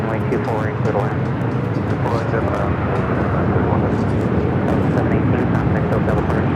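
An Airbus A330 landing on runway 24 left at Los Angeles International Airport, a loud, continuous broadband engine roar that holds steady throughout, with voices talking faintly underneath.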